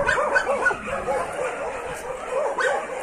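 A dog at a volunteer site in Chisinau, Moldova, giving a string of short yelping barks mixed with high whimpers, close and fairly loud, with a few yips clustered near the start and again near the end.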